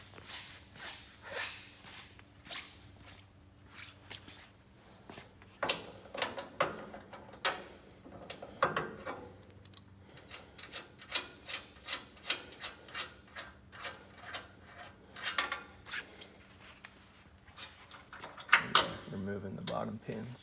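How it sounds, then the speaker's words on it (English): Metal hardware on a Grasshopper mower's PowerVac dolly is worked loose, with a run of scraping, rubbing clicks and rasping turns at close range over a low hum. "Once you got the nut and bolt removed from one side, we'll go ahead and do it on the opposite side."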